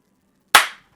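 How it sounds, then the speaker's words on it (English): A single sharp hand clap cracks out of silence, loud and close, then fades quickly. "So many claps, so unnecessary."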